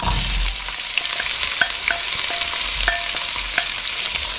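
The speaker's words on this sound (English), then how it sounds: "Fat's nice and hot, so the first thing we do is we'll add our onions." Onions sizzle loudly in hot fat in a big pan for a chicken curry, a steady close crackle and hiss with light stirring taps.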